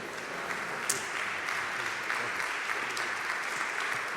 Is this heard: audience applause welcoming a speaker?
yes